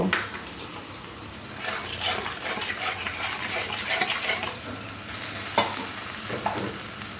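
Raw banana curry with salt and water being stirred and fried in a pan, producing a continuous close sizzle with scraping of the spoon and occasional sharper clatters, with a dog faintly audible in the background.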